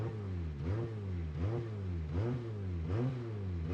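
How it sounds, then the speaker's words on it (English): A drift car engine at Tianma Circuit in China during a tandem drift battle revs in about four repeated surging cycles, rising and falling rhythmically at a moderate distance. "I hear the engine noise there in the back."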